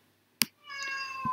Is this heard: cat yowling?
yes